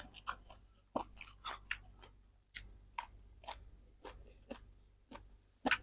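Close chewing and crunching of stir-fried minced pork with holy basil and pickled bamboo shoots, with irregular bites spaced about a second apart and no talking.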